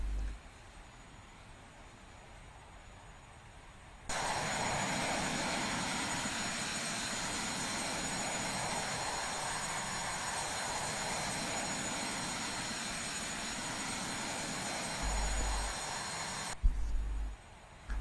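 A DC9 jet in the X-Plane flight simulator accelerates in a climb past 10,000 feet, giving a steady, loud engine roar that starts suddenly and holds for about twelve seconds before cutting off, with no talking over it.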